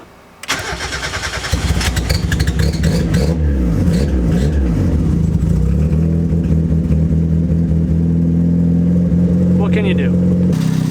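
Mazda Miata, a Supermiata, cranks for a couple of seconds, catches and revs up, then settles into a steady, loud idle with a rising and falling note close by.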